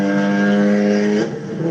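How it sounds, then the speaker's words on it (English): Audi A4 engine fitted with a stage 2 exhaust cam and stock intake cam, a loud steady droning hum with strong harmonic tone that drops slightly near the end, heard alone up close. "This is a 440 Audi A4."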